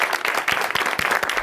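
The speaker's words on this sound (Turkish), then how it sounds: "Bir alkış istiyorum." Brief, full burst of studio audience applause on a Turkish talk show, many hands clapping together in a steady, loud wash.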